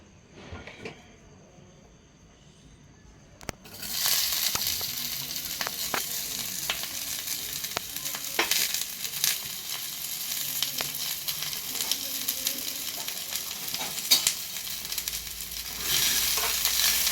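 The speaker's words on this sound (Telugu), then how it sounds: "నేను 2 ఆనియన్స్ తీసుకున్నాను, చిన్న చిన్న ఆనియన్స్. ఇవి కొంచెం ఆయిల్ వేసి వేయించుకోవాలి." Two small onions frying in oil in a pan, a steady close sizzle with occasional clatter of utensils, rising after a quiet start and continuing throughout without talk.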